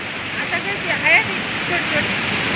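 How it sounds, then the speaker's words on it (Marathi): A forest waterfall roars close by as a dense, constant wash of water noise, with a faint voice barely rising above it. "तर मित्रांनो धबधब्याच्या आवाजामुळं आपल्याला आवाजसुद्धा आमचा कमी येत असेल"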